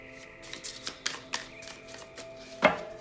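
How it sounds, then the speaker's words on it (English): A stiff new zombie-themed tarot deck is shuffled by hand in a few soft riffling bursts and light papery clicks, close and quiet, ending in one sharper snap. "Let's shuffle them up"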